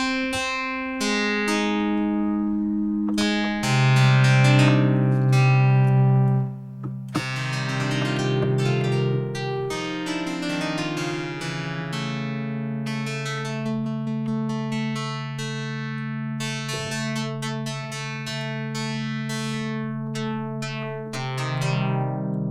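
Software synth sa_synth with a sine oscillator phase-modulated by resonator output, producing a sequence of plucked, bell-like tonal notes with bright metallic overtones, played alone and steadily at moderate loudness.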